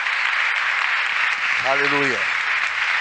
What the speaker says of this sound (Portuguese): Dá um aplauso ao Senhor em agradecimento a Jesus.